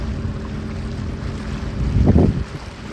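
Jet ski engine running on open water near a cay in the Bahamas, a steady low rumble with wind buffeting the microphone and a brief louder surge toward the end.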